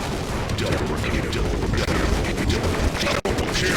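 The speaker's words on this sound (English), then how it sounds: "called the M249. It's the machine gun." Rapid, sustained fire from an M249 machine gun in the game Counter-Strike: Condition Zero, loud and dense throughout, with a brief drop just before the end.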